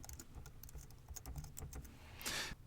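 Rapid keystrokes on a computer keyboard type a layer name, quiet close clicks in an uneven burst, ending with a longer, brighter key press.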